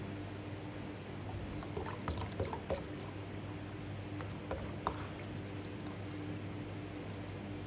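Water is poured into car coolant to mix it for a radiator, giving a steady liquid stream with a few splashy clicks over a constant low hum.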